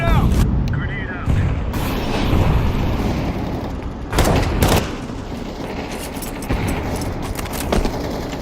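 Grenades go off in Counter-Strike 2 as loud, sharp explosive bursts around the four-second mark, with lighter game noise, clatter and a talking voice running throughout.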